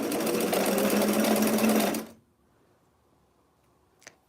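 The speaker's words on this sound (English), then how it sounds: "Sewing around curves is often a little bit tricky, but the slower you go, usually the easier it is." A sewing machine runs steadily for about two seconds, stitching a T-shirt along a curve, then stops abruptly; near silence follows with a faint click near the end.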